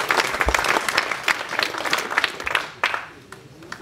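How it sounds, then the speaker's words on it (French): Audience applause at a municipal New Year's wishes ceremony in Nilvange, France: steady, dense clapping from a crowd that keeps up for several seconds, thins briefly, then swells again near the end. "Je pense qu'on peut encore les applaudir bien fort"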